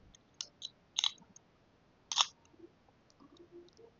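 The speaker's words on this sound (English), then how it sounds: "I can close the lock and open the lock" A small lock snapped closed and then opened, a few sharp close mechanical clicks spaced apart, with fainter rattles afterward and no talking.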